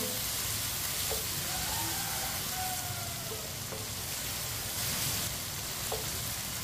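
Tomatoes sizzle steadily in a pan while cooking for aloo gosht, a continuous fizzing crackle with a few faint clinks of a utensil, no talking.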